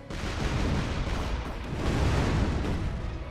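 A skeet weapon fires in the ShellShock Live artillery game, a sustained booming blast with rumbling gunfire texture that holds loud and steady for a few seconds without any voices.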